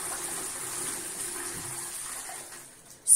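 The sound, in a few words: flushing a Shires back-to-wall toilet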